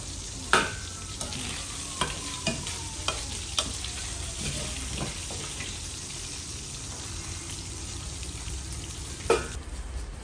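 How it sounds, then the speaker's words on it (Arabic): Food in a hot pan is stirred while it sizzles. A steady frying hiss runs throughout, with scattered sharp spoon knocks against the pan. Everything is close and moderately quiet. "نقلب دلوقتي مع بعض"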